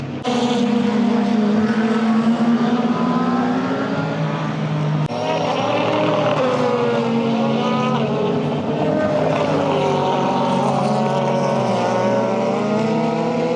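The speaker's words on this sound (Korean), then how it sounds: "그 자동차들 터보 소리도 터보 돌아가면서 피피피한 소리도 들리네요" Super GT race cars circle Fuji Speedway, their turbocharged engines producing a loud, continuous roar with whining, shifting pitches as the cars pass uphill through a right-hand turn.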